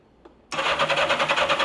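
A turbocharged Yamaha engine that has sat for 40 years cranks over after a brief click, churning steadily and loudly in a rapid rhythmic pulse without catching, with no voices.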